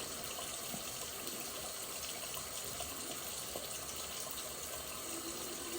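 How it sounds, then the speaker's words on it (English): Warm water from a tap running steadily in a bathroom sink while fingers dip into it, a constant soft hiss and gush with no talking. "I'm just going to take some water on my fingers like this"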